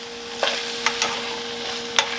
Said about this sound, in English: Stir it all around.